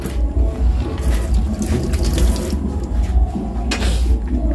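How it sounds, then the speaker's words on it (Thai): Hands are washed under a running kitchen tap during cooking, a steady close splash and rush of water with shifting surges as the hands move through the stream. "เดี๋ยวขอล้างมือด้วย"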